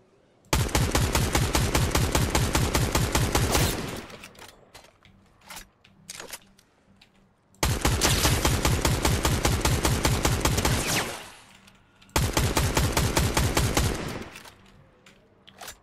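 Rapid automatic gunfire in an online ranked shooter match, three long loud bursts of sustained fire separated by short pauses with scattered single shots between.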